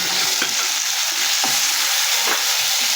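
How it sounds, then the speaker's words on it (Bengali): Chopped tomatoes land in a pan of fried onion and chillies, sizzling loudly and steadily while a spoon stirs them in a few distinct scraping strokes. "তার মধ্যে টমেটো কুচিগুলো দিয়ে দিলাম"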